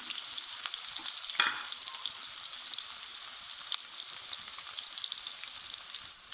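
Steady, bright sizzling of chopped onions frying in oil, with a few soft stirring scrapes and clicks partway through; no talking.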